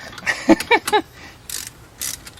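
A preset torque wrench ratchets on a VW Type 3 subframe during an independent rear suspension install, a quick series of close, crisp clicks followed by two brief metallic rasps.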